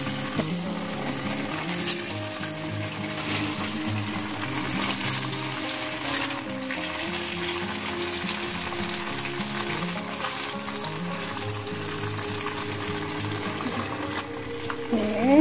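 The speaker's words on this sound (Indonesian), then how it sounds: "siapkan wajan dan minyak panas, kita goreng lopakonya ya" Lobak pudding (lopakko) fries in hot oil in a wok with a continuous, even sizzle beneath background music, steady and close throughout.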